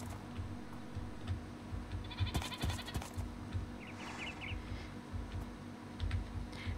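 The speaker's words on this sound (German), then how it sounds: "Hier sind Ziegen." Goats bleating in Minecraft, a few short, faint calls over a steady game background with some clicking noises, no talking.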